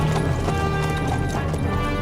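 Horse hooves clip-clopping in Kingdom Come: Deliverance 2, a steady, fairly loud rhythmic patter of hoofbeats over a dense, continuous low rumble.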